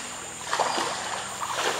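Packraft paddled solo along a narrow canal in the Amazon jungle, soft water swishes from paddle strokes coming in two gentle pulses over steady forest ambience, close and fairly quiet.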